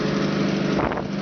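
An Opel 2.4 engine with Motronic fuel injection idles steadily with a smooth, even hum, heard close and alone after its vacuum leaks were fixed, with a brief swell in the middle.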